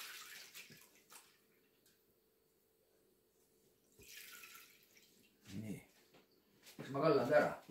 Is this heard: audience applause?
no